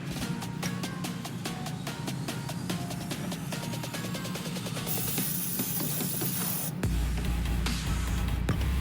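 Buttery cooking spray hissing into a pan over a camp lantern stove, a close continuous spray with broadband crackle that shifts partway into a brighter, steadier hiss, with no talk.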